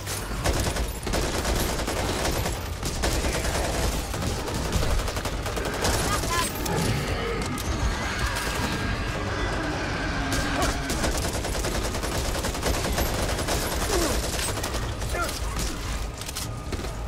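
Gunfire from the zombie shooter video game Back 4 Blood: dense, rapid bursts and sharp repeated shots crackle almost without pause, mixed with mechanical clanks, at moderate loudness throughout.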